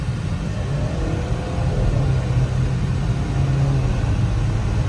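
A 2023 Volvo XC40 B5 Plus with a turbocharged four-cylinder engine accelerating, heard from inside the cabin as a loud, steady low drone and road rumble that swells slightly partway through, with no talk.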